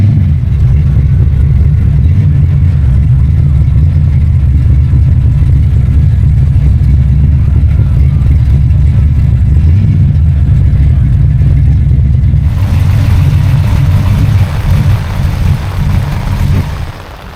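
Loud, close rumbling of a Mopar muscle car with a 528 Ray Barton Hemi stroker V8, a deep continuous growl with rev swells at an outdoor car show in Morrinsville in wet weather, no talk.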